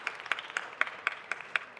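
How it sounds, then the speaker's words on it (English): A single person claps slowly and evenly at a city council meeting, about eight crisp claps at a steady rhythm, fairly faint and alone. "To clap for that, please"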